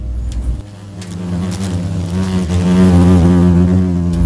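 Asian giant hornets buzzing near a trap at a hole dug beside a grave, a continuous droning hum rising slightly in loudness, close by, with no talk.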